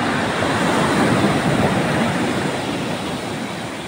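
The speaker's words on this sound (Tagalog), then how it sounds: "Tignan nyo yun, lakas ang alon" Powerful ocean waves surge and crash at Sulok Beach in General Nakar, a dense continuous roar of surf that swells slightly and then eases, with no voices over it.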